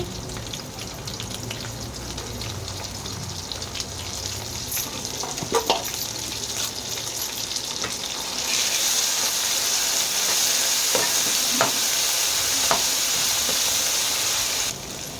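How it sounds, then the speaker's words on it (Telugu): Onion, tomato, ginger, garlic and green chilli paste frying in a pan, a steady close hiss and sizzle with occasional stirring clinks, growing louder and brighter partway through as the paste cooks. "ఆ పేస్ట్ వేసుకొని పచ్చివాసన పోయేంత వరకు ఫ్రై చేసుకోవాలి."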